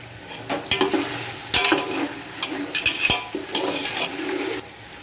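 Garlic and chilies fry in oil for beef pulao, a steady sizzle broken by repeated scrapes and clinks of a spoon stirring against the pot, close and fairly loud.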